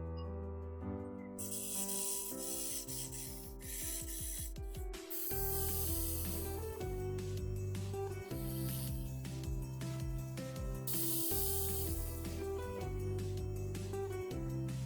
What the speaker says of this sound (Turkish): gördüğünüz gibi köpük köpük olana kadar mikserle karıştırdık